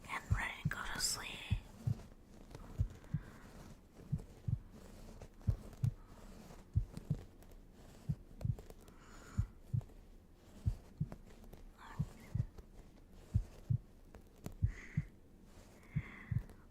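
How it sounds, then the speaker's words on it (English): A heartbeat thumps in a slow, regular double-beat rhythm, soft and close, continuing for many beats under a quiet, intimate whispered voice. "That's the sound of Mama's heart beating for all you little monsters."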